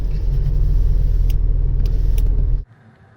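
A Lotus Carlton estate car rumbles loudly and steadily as it drives on a test drive, and the sound cuts off abruptly near the end, with no talking.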